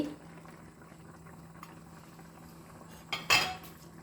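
Soaked sago pearls simmer in a pot for sweet kanji with brown sugar, a steady low bubbling close by, broken near the end by a brief clatter of a utensil against the pot.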